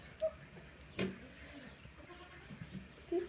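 A goat bleats in a few short, faint calls spaced across a few seconds, with quiet farmyard background and little else.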